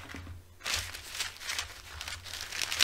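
Parchment paper crinkles and rustles close by in irregular bursts after a brief pause, as a piece is cut and laid over a sign.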